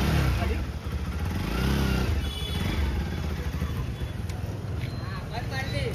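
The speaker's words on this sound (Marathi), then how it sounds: "आता गाडीला किक मारतोय तो." A motorcycle engine idles and revs as it is kick-started amid a street crowd, its low rumble and throttle surges running steadily throughout with people talking over it.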